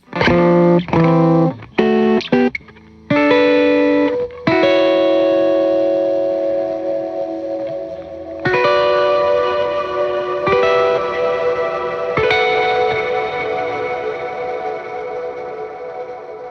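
A Sizzle effect on a Tone Era Time Capsule 1 pedal, sitting after the reverb, turns a series of played notes and chords into bright, shimmering, bell-like tones with long ringing decays and crackling sizzle.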